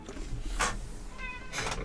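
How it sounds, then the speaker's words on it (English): In the city-building game Pharaoh: A New Era, a cat meows insistently. A tonal, wavering meow rises between two brighter bursts of noise, clear and close, with no talk over it. "the cat's shouting at me"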